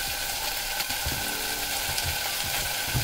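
Whole spices frying in hot oil in a home kitchen pan, a steady close sizzle with small crackles and pops and occasional stirring noises throughout.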